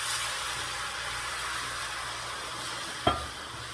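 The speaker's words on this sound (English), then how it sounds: "Let's add some beef stock." Beef stock poured into a hot pan for Mongolian beef, giving a steady broad sizzling hiss with one brief sharp knock near the end, close and alone without speech.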